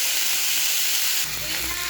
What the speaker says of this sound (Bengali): কুমড়ো কড়াইতে